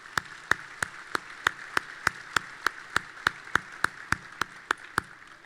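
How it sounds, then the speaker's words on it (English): Steady, evenly spaced claps, about three per second, sharp and moderately close, from a luncheon audience applauding sponsors at the Celebration of Valor 2019 event at the National Medal of Honor Heritage Center. "let's give all of the sponsors a round of applause"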